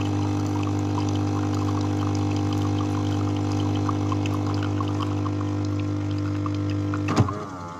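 Water steadily pouring and trickling from an espresso coffee machine as it empties, a continuous close drone with a brief rattling knock near the end.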